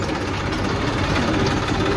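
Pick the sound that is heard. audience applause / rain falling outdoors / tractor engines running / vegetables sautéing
tractor engines running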